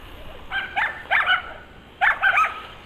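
Dogs bark in a suburban backyard, a couple of short barks followed by a pause and then another quick pair, fairly close and loud over a quiet outdoor background.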